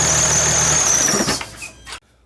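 A 2008 Dodge Sprinter 3.0-liter diesel engine idles close by with a steady rumble and a high whine, then cuts off abruptly as it is shut down, leaving near silence.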